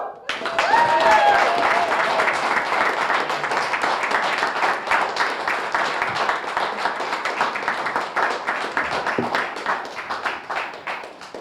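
Audience applause at a climate change press conference in Watertown, a loud, sustained round of clapping that runs continuously, with a brief voice or cheer near the start.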